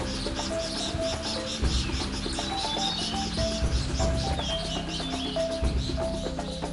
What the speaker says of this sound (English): if you carefully listen to the sounds of insects and birds in Tengchi